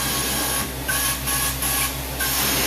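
Carpet cleaning wand spraying through no-drip jet extenders, a loud hissing spray in short bursts, four or five pulses with brief gaps as the trigger is squeezed and released, over a steady machine hum.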